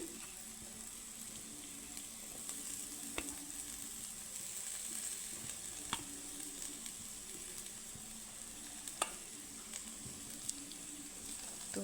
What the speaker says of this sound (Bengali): পেঁয়াজ মশলার সাথে আমি আলুটাকে সুন্দর করে ভেজে নিচ্ছি